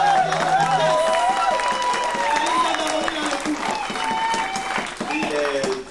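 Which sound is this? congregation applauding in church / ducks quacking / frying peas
congregation applauding in church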